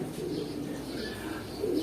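A champion one-loft racing homing pigeon at its loft coos softly and continuously at close range in a brief burst.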